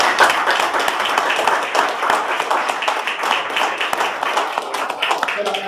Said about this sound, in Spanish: para nuestro presidente un gran aplauso